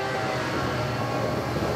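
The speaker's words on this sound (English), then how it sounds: "Trains. We never even think about them until we hear that clanging bell." A train rumbles past at close range, a dense, steady rolling clatter filling the short moment at constant loudness.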